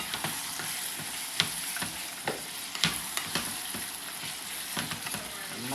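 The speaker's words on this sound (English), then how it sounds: "Stir it." Ackee and saltfish with black pepper stirred in a frying pan, a soft, steady sizzle with a run of light, regular spoon scrapes and taps, close and moderately quiet, with no voices.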